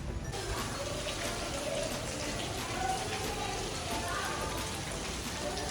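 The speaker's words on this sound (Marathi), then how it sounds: "पाऊस सुरू झाला थांबलोय झाडाखाली" Rain falls steadily on a college campus while someone shelters under a tree, a soft even patter of drops that holds through the whole stretch, fairly faint.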